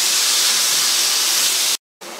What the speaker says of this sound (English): we're going to carry on frying these until they're